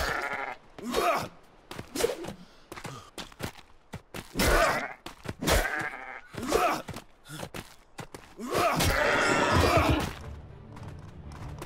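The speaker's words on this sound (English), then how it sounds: "Oh, a sheep!" Animal cries from the survival video game Atlas: several bleating and whinnying calls in separate bursts, loud and close, with a longer sustained cry near the end and no talk over them.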